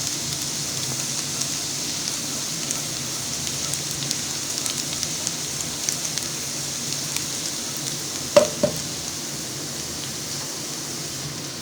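Chicken browns in a pan for a Chicken Manchurian, giving a faint, steady sizzle with a couple of small clatters near the end and no talk.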